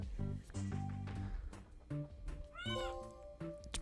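A cat meows in the Slime Rancher 2 video game, several short tonal cries over a busy game soundtrack with music, fairly loud and close.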